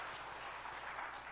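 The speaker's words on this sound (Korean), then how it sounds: "다시 한번 하나님께 영광의 박수를 내드립니다." A church congregation claps in praise, steady broadband applause lasting throughout at a faint, distant level with no voices over it.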